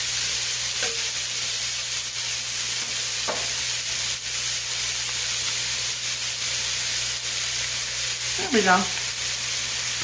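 Onions and mushrooms sizzle steadily in butter and olive oil in a pan, a close, constant frying hiss, with a short spoken phrase and a few faint clinks of stirring.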